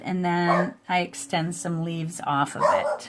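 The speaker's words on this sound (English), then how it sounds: "I'm so sorry about my dog." A dog barks and yips several times, close by and loud, mixed in with a person talking calmly.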